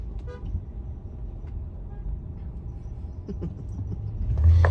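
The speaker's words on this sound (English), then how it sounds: "People honking at each other." Car horns toot and honk amid city traffic, with a steady low road rumble throughout and a louder, longer horn blast near the end.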